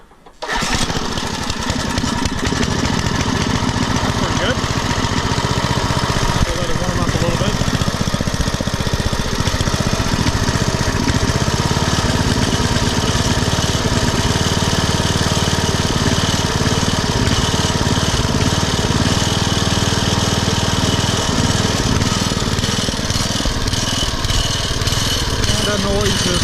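A Briggs & Stratton 5HP engine on a Poulan/Weed Eater garden tiller starts abruptly and keeps running loud and close, a steady rough putter with slight revving up and down throughout.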